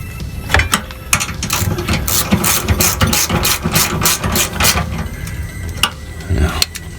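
A hand ratchet snugs up the driveshaft bolts on a Toyota Fortuner, giving loud, close, rapid clicking in steady strokes with brief pauses between them.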